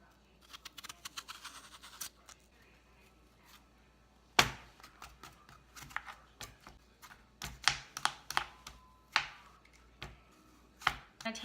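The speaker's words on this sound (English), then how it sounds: "You're gonna take 2 of your apples and you're gonna peel them." Two apples are peeled by hand, giving quiet, close, irregular scraping with crisp little clicks and snaps that grow more frequent toward the end, without talking.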